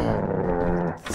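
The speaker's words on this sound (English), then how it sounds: "Why is it growling at me?" A creature in a video game gives a low, sustained growl at close range, rumbling steadily for about a second before trailing off.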